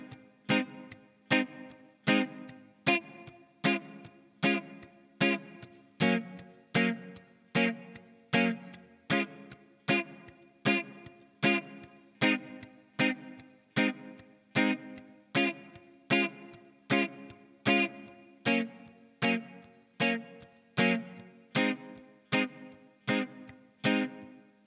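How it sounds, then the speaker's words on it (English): Electric guitar with effects, likely strummed in a steady reggae offbeat rhythm, plays the eight-bar verse chord progression of a song, even and alone throughout. "Now the last section we have to learn is the verse, and it's another 8-bar chord progression."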